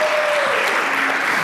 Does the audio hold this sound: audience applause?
yes